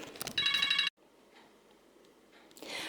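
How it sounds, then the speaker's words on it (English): A mobile phone rings loud and near with a dense, rapid electronic ringtone for about half a second, then cuts off into quiet room tone, with another burst of sound near the end. "My phone is ringing"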